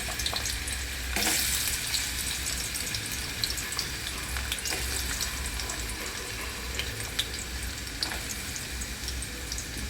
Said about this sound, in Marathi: हे बटाटे त्यामध्ये टाकायचे आणि फ्राय करून घ्यायचे